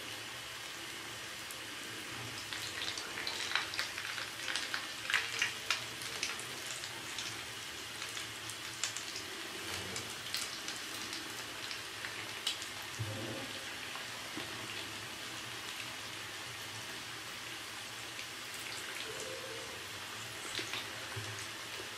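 Potato bread rolls frying in oil in a pan, a steady soft sizzle with scattered crackles and pops throughout, fairly quiet and continuous with no talking.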